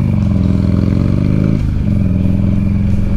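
A 2007 Buell XB12X Ulysses motorcycle engine runs loud and close, a steady deep throbbing rumble that dips briefly midway before settling back to an even idle.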